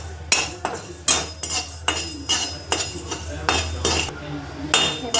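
Coriander seeds being stirred as they dry-roast in a pan, a metal spoon scraping and clinking against the pan in a steady, repeated rhythm of close, crisp strokes, with a low hum underneath.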